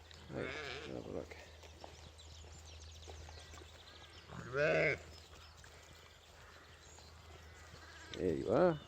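Sheep on a farm give three distinct bleats, near and fairly loud, separated by quieter stretches of low background noise.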